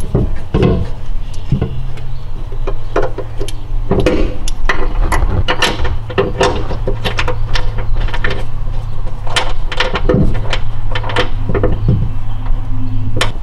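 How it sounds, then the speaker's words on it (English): A ratchet with extensions snugging down 18mm bolts on the rear upper control arm of a 2011-2014 Mustang GT, giving steady rapid clicking bursts throughout, close and fairly loud, with brief pauses between strokes. "you're going to snug them down using a ratchet with some extensions."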